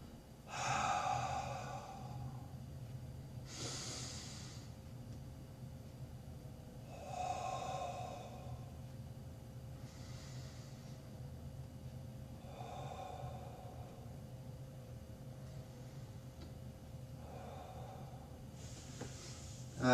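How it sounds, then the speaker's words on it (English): Slow, deep breaths drawn in through the nose and let out through the mouth as a meditation exercise, repeating every few seconds over a steady low background hum, with no talking. "it's a deep breath in through the nose and then exhaling through the mouth"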